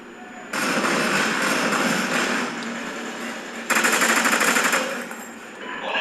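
Rapid automatic gunfire in the Call of Duty Ghosts video game, two sustained bursts with a brief lull between them, loud and continuous.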